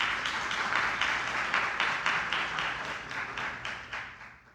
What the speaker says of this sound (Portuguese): Uma salva de palmas, galera, por favor.